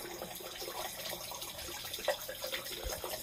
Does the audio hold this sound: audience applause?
no